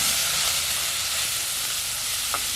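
Onions and green chillies sauté in hot oil for a dry fish curry, making a loud, steady hiss close by that barely changes, with one faint clink near the end.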